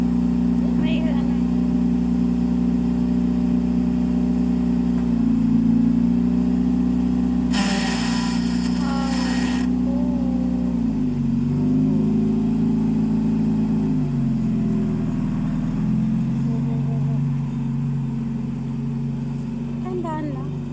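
A car engine idles and hums steadily throughout, with slight changes in pitch, while people talk over it.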